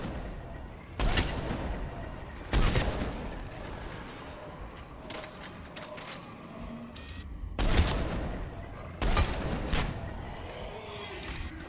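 Gunfire from Mass Effect 3 Legendary Edition comes in several loud bursts separated by pauses, with sharp rattling volleys close by over a constant background of game ambience.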